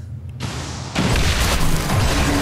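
Explosions in the video game XCOM 2: a first blast opens, then a much heavier boom hits and rolls into a loud, sustained rumble that continues to the end.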